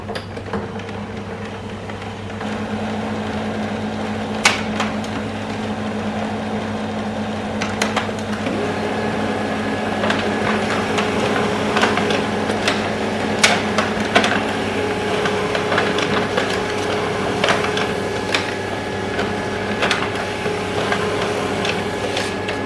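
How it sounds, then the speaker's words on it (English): A steady mechanical machine hum with whirring tones and intermittent clicks and clunks of paper feeding, an HP LaserJet Pro MFP 3101dwe laser printer copying a one-sided document to two-sided. "We'll copy a one-sided document to two-sided."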